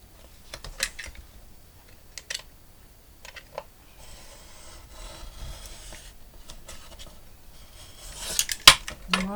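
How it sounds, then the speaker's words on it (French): Scissors snip a small piece off a plastic laminated pouch, giving a few sparse clicks and rustles, then a sharper crinkle of plastic near the end. "Moi, je coupe un petit bout quand même parce que ça fait grand."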